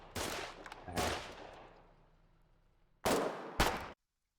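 Gunfire in the frontline war game Foxhole, two loud booming shots with a long decaying tail, then two more sharp blasts close together, near and with no speech.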